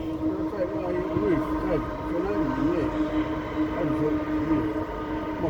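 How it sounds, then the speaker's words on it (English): A train rumbles past close by on a mountainside line at Zig Zag, a steady low roar carrying on throughout while people talk over it. "that's a train going past us"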